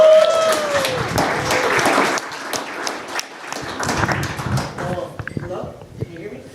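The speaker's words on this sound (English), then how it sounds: "So give them a huge applause for the beginning" Audience applause for panel speakers at a digital conference, a dense burst of clapping that fills the room early on, then thins into scattered claps and thumps with some talk underneath.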